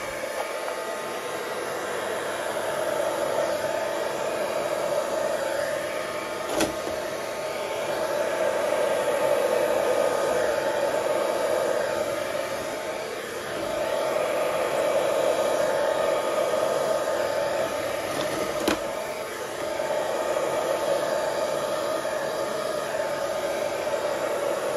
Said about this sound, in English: all I'm going to do is blow with the hairdryer from the centre outwards in all directions